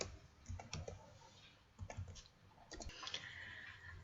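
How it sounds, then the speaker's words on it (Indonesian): Typing on a computer keyboard while entering text in Microsoft Word: quiet, close key clicks in small irregular bursts, with a denser flurry of taps near the end and no speech. "Kemudian ketikkan tulisan sebagai contoh."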